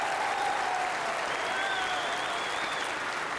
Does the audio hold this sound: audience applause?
yes